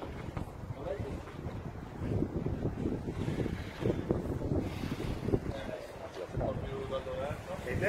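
Strong outdoor wind buffets the microphone with a constant rumbling roar that swells and eases throughout, while a person talks underneath.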